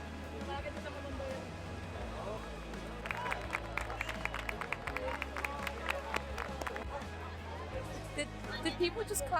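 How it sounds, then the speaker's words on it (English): A crowd watching a sunset in Spain breaks into applause, a burst of many hands clapping from nearby and farther off, with chatter and murmuring voices around it before and after. "Did people just clap at the sun going down?"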